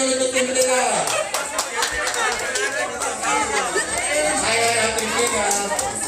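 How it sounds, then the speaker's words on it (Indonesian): An audience claps for team 3 at The Next CSN 2022 event in Makassar: scattered, sharp hand claps mixed with crowd chatter and people talking throughout. "Ya, tepuk tangannya dulu untuk tim 3."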